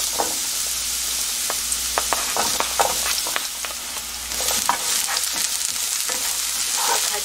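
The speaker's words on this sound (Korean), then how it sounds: "가지를 볶아줬는데요" Sliced eggplant fries in oil in a pan with a continuous close sizzle, broken by a quick series of scraping, clicking stirs.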